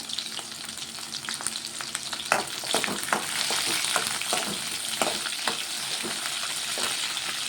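Green chilies and garlic fry in a pan for a chutney, giving a steady broadband sizzle with scattered crackles and pops and occasional stirring scrapes, close and fairly loud throughout.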